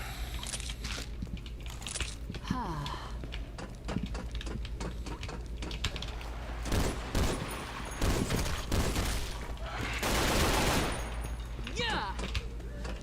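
In Left 4 Dead 2, rifle gunfire comes in scattered shots and rapid bursts, growing denser and louder toward the end. A voice talks intermittently over the background game noise.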